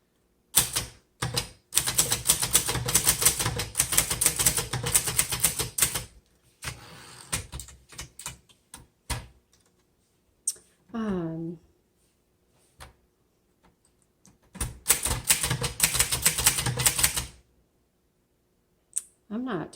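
A 1951 Underwood Finger Flite manual typewriter clacks in two long bursts of fast keystrokes, separated by a quieter stretch of scattered clicks and mechanical shifts, all close up.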